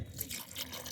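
Water soaked with new jaggery poured into a cooking pot, a steady close trickle and splash of liquid over a short moment.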